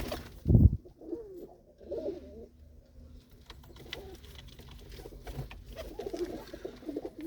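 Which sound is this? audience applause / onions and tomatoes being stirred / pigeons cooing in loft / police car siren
pigeons cooing in loft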